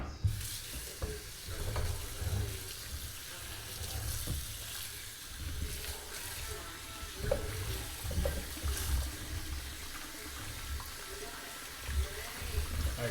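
Tap water running over cut potatoes being rinsed in a kitchen, a steady splashing hiss with scattered knocks and rustles as the pieces are moved, fairly quiet with no speech.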